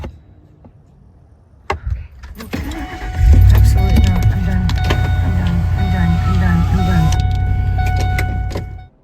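A car engine cranks and catches near a wooded camping spot, then settles into a steady, loud idle rumble for several seconds after a few brief knocks and clicks.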